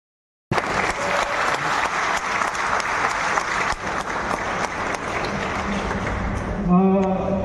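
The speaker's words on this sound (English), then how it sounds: "So please, give applause to your." An audience bursts into applause at a Hyundai car dealership's 25th anniversary celebration, sustained clapping that thins near the end as a voice begins speaking.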